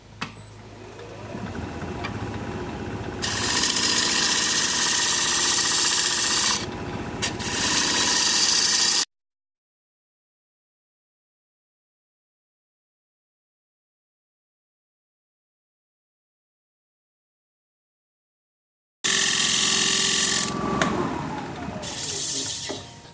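Wood lathe at 1300 RPM with a 5/8-inch bowl gouge cutting a maple bowl: a steady loud hissing shear over a low motor hum, cut off by a long stretch of silence before the cutting resumes.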